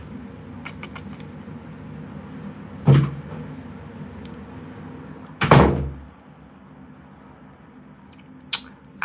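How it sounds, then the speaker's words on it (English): An indoor door shut during a livestream, with two distinct thuds a few seconds apart and a smaller knock near the end over a quiet room hum, no talking. "I closed that door, by the way."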